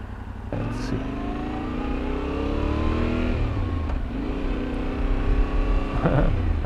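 A Yamaha Tenere 700 adventure motorcycle engine pulls steadily under acceleration, a loud, close drone with rising pitch and gear-like shifts, heard from the rider's position over wind noise.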